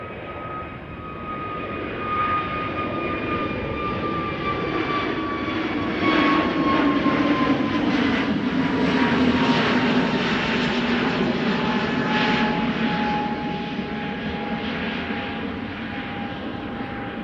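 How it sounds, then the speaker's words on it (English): A KLM Airbus A321neo jet departs Schiphol, its engines a steady, moderately distant roar with a whining tone that slowly drops in pitch as it climbs away, swelling slightly midway, with no talk. "KLM at 12:51 to bloody Helsinki is on the way. A321neo."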